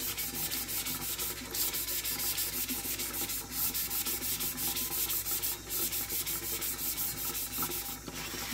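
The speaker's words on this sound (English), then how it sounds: "And we're just gonna do a nice light sand over the entire tumbler." A wet sanding block rubbed lightly over a tumbler, making a steady close scratchy rasp in fast back-and-forth strokes that continue without pause, with no voice over it.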